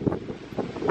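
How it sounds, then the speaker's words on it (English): Strong gusty wind buffets an outdoor garden microphone by a wooden arbor with planter boxes, producing loud low rumbling bursts that surge and fade in quick irregular gusts, alone without speech. "Oh my goodness, the wind seems to be coming from all over the place."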